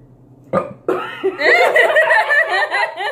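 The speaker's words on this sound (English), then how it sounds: "I hope you know that she burped on it." A loud, drawn-out burp rumbles for a couple of seconds after a short bump, with a brief laugh-like sound near its start.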